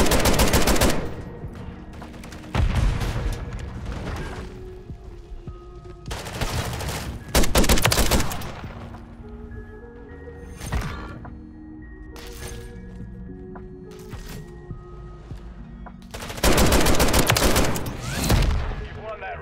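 JAK Jawbreaker gunfire in a video game: loud bursts of rapid shots, several strong volleys spread across the clip with quieter gaps of game noise and occasional single shots between them.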